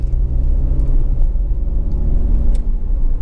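A Volkswagen Passat 1.9 TDI PD Highline diesel engine idles steadily, a smooth, quiet low rumble that holds even and unbroken, close by, with no talk over it.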